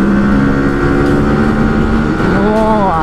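A Yamaha R1 superbike speeds past on a city road at night, its loud engine note rising and holding steadily across the whole stretch, with a climbing whine near the end as it passes close.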